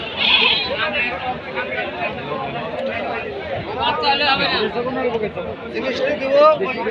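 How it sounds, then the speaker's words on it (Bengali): Goats bleating at a busy livestock market at the Baneshwar goat haat in Rajshahi, with repeated bleats throughout. A crowd chatters and people talk loudly over them. "এর পাশে কিছু আরও ছাগল আছে এগুলো দেখবো ইনশাল্লাহ"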